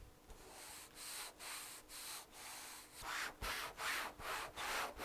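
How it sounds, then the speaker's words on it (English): Hand dry sanding a Honda Civic Si hood with 220 grit sandpaper, quiet close rasping strokes in a regular back-and-forth rhythm, about a dozen passes. "So here we are, I'm just hand sanding it to start."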